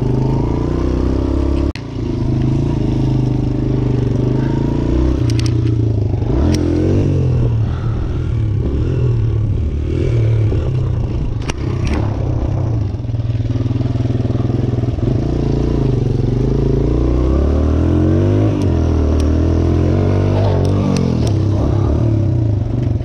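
A dirt bike rides on a beach on a summer day. Its engine drones loudly and close the whole time, rising and falling in pitch as it revs, with some rattling and wind rumble.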